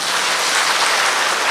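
Steady, dense applause from a large seated audience at a spiritual gathering, unbroken and even throughout with no voices rising above it.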